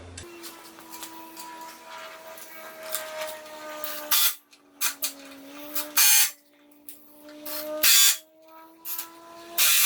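Half-inch stainless steel truss head screws are driven into a Delta 22-101 planer during restoration: a power driver whines in rising tones, stopping and starting several times with loud bursts between runs.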